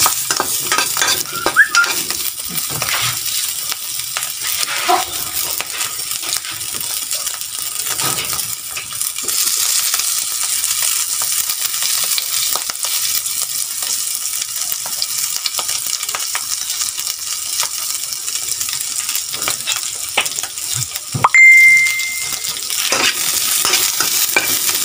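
Onion and garlic frying in a pan, a steady close sizzle with stirring and occasional scrapes and clinks of a utensil against the pan, no talking.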